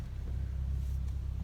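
Low droning rumble of a 2013 Ford Mustang S197 V6 with a custom exhaust, heard from inside the cabin with windows up, a steady muffled hum at idle or cruise.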